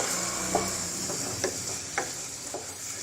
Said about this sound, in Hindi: अच्छी तरह अब इनको आपने मिक्स कर लेना है।